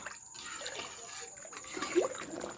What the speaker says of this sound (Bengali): তাই একটু জলটা বেশি দিচ্ছি, ডালটাও সিদ্ধ হবে।